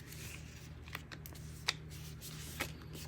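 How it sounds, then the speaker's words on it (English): A stack of gel-printed paper sheets is folded in half by hand, giving soft rustles and a few crisp papery snaps and crackles, close and quiet with no talking. "And now I'll take all the sheets and fold them in half"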